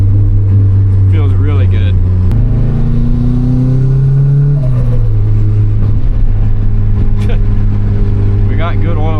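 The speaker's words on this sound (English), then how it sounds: "That turbo lights up, man." A turbocharged Mazda Miata running 6 to 7 psi of boost pulls hard, its engine drone rising in pitch and then settling, heard from inside the car while someone talks over it.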